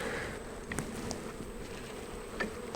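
Honey bees buzz steadily around an outdoor hive that is being worked, a continuous close insect drone with a few brief louder passes near the ear.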